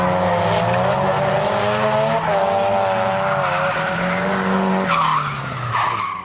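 Drift car tires squeal loudly in a long sustained skid over a droning engine in a video game, the pitch wavering before it fades near the end.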